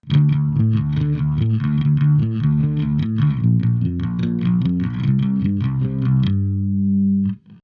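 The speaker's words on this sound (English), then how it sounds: "Or the Digidelay, which sounds like this." A Lakland 4401 electric bass plays a rhythmic riff through a digital delay pedal with a processed, slightly gritty effect, ending on a sustained note that rings out and fades.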